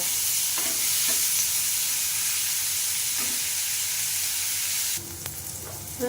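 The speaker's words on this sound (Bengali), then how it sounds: "পেঁয়াজটা টমেটোটা ভালো করে ভেজে নেব" Chopped onion and tomato fry in a pan with a loud, continuous sizzle and occasional stirring scrapes, and the hiss shifts abruptly near the end.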